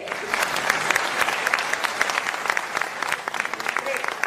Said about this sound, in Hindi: पर जोरदार तालियां तो कर आए हैं उनके लिए।